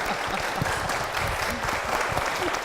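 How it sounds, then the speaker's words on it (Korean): Church congregation applauds loudly after a worship song, sustained dense clapping from a crowd close by, with some cheering mixed in. "박수!"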